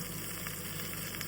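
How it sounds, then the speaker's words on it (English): Beef browns in a pan for a slow-cooked beef stroganoff, giving a steady, even sizzle of frying at moderate distance that carries on without a break and with no talk. "So we're going to brown the beef, caramelize the onion a little bit"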